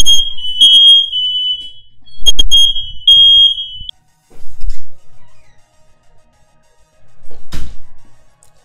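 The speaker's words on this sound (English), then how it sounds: "As I was saying before my freaking fire alarm went off" A home fire alarm shrieks in loud, high piercing bursts, sounding in several short intermittent blasts with thumps and silences between them.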